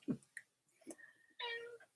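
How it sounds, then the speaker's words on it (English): A house cat begging for food gives a few short meows, then a longer, louder drawn-out meow near the end, close by and with no talking over it. "My cat is begging for food."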